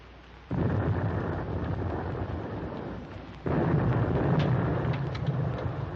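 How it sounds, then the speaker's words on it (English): Depth charges exploding in a 1944 World War II film about an American aircraft carrier arrive as two deep, rumbling booms, the second swelling louder and lingering as a heavy muffled roar. "Our escort must be dropping depth charges."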